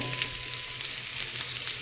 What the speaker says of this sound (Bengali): দেখুন আমার সবজিগুলো প্রায় ভাজা হয়ে গেছে